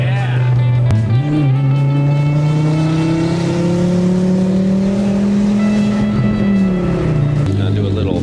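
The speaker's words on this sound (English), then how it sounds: "This thing sounds so good. Especially the backfires in between the shifts." A 2004 Volvo V70R with a straight-pipe exhaust revving and pulling through gears, a loud close rising engine drone broken by shift dips, with voices underneath.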